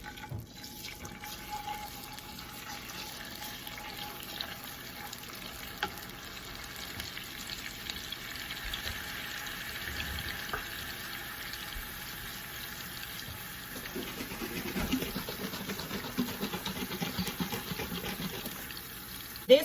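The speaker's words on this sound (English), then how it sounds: "I'm also going to add to this water." Water poured into a pan of golden monk fruit sweetener and brown butter while making keto brown butter syrup, a steady soft running and trickling wash with faint sizzle, close and continuous throughout with no talking.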